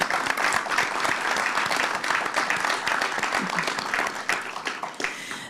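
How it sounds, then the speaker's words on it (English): Audience at a fire department awards ceremony applauding award recipients, a full, steady wash of clapping that holds strong throughout and tapers slightly near the end. "So let's give them another round of applause."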